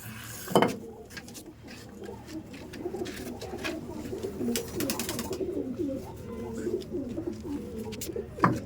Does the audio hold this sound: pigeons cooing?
yes